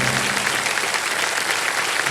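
A studio audience claps loudly and continuously on the set of the Kaun Banega Crorepati quiz show, dense sustained applause filling the whole moment with no voices over it.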